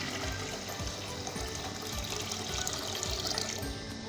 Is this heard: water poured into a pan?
yes